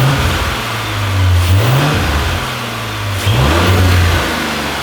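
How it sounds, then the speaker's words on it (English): Audi S5 B9 fitted with the stock all-plastic intake revving twice from idle, a loud close engine rising and falling in two smooth pulls with a low steady idle between. "Go ahead and rev it a little bit."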